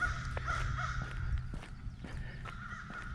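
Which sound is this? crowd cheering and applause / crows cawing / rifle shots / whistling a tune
crows cawing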